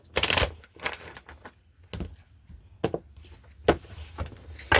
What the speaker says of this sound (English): I'm shuffling the cards in between the readings to get a card specifically for that other card.